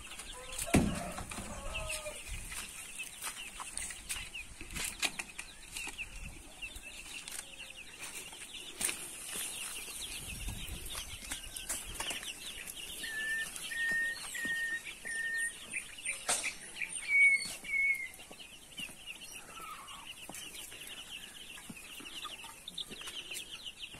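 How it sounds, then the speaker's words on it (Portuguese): Baby naked-neck chicks chirp in a brooder with a batch of fifty birds. Their high peeps are faint and scattered over a quiet background, with a few clearer calls near the middle. "Nós fomos na cidade, compramos nossos pintinhos e colocamos aqui no nosso novo berçário."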